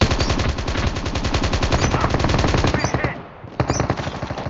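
Rapid machine gun fire from an M4 rifle in an online shooter game, a loud continuous burst of closely spaced shots that pauses briefly and then resumes.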